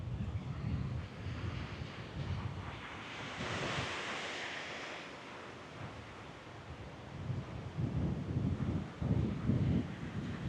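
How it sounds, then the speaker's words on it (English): Cold January wind buffets a microphone fitted with a wind cover, producing a steady, rushing roar with low gusty thumps that swell and fade throughout, no voices present. "definitely some good wind blowing right now, and it's a rather cold January wind up here"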